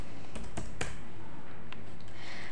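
Close, crisp keystrokes on a computer keyboard while typing in Microsoft Word: a short burst of several distinct taps, then a couple of softer isolated presses, with no talking.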